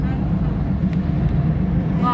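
A car moves along a road, heard as a steady low engine and road rumble from inside or close by, constant for the whole short stretch.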